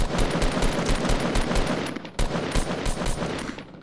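Rifle fire in Fortnite at Tilted Towers, a loud rapid automatic burst of evenly spaced shots, a brief pause, then another rapid burst, close and continuous with no talk.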